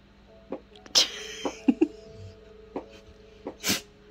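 A short sneeze indoors, followed by a second burst a few seconds later, with scattered soft rustles and small noises in between.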